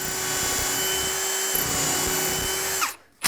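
A power drill driving whitehead screws into cabinets whirs steadily at close range for nearly three seconds, then cuts off abruptly into near silence.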